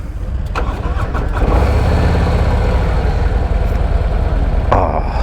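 A 2024 Harley-Davidson Road Glide V-twin fires up and settles into a deep, loud, continuous burble close by, with a throttle swell near the end and no talking.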